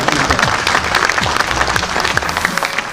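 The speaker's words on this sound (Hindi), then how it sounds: "तो एक बार उनके लिए तालियां।" Theatre audience applause for an honoured guest at the staging of a new Hindi play, a thick, continuous wash of clapping from a crowd, with faint voices mixed in.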